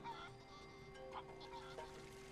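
Chickens in the game Crash Bandicoot 3 let out faint, honking clucks and squawks over a steady game soundtrack, several short calls scattered through a brief stretch.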